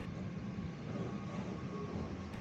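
Inside a moving passenger train on the Longhai Line between Xi'an and Baoji, a steady broadband rumble and rush of the carriage fills the space, constant and moderately loud, with no voices.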